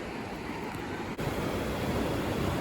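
Sea waves wash onto a cold beach near sand dunes on Dragonstone, a steady broadband surf roar with some wind, continuous and fairly close, with no voices.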